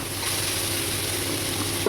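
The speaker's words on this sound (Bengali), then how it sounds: "আগে থাকতে ভেজে রাখা উচ্ছে আর আলু আমি ওর মধ্যে দিয়ে একসঙ্গে নাড়াচাড়া করে নেব" Pre-fried bitter gourd and potato tossed with prawns in a hot pan, a dense continuous sizzle with a spatula stirring close up.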